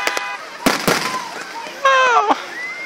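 Fireworks on a freezing night at Saddle Lake, 2014, give a few sharp bangs and crackles with a rising whistle, while people cheer and exclaim over them nearby.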